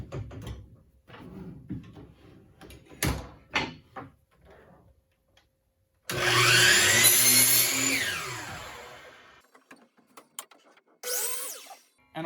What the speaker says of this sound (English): we'll come over to the miter saw.